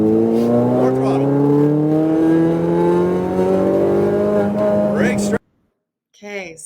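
Race car on a racetrack accelerating: engine note climbs steadily and loudly through a long pull, then cuts off abruptly, followed by a brief burst of a man's speech.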